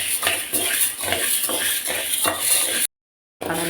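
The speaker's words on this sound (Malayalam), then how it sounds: "അടുത്ത് കടലപ്പരിപ്പ് ഇട്ട് കൊടുക്കാം. എല്ലാം ലോ ഫ്ലെയിമിൽ വേണം വറുത്തെടുക്കാൻ." Chana dal is dry-roasted in a pan over a low flame for homemade sambar powder, with rhythmic scraping and rattling of a spoon against the metal, a light crackle beneath, and a brief silent gap near the end.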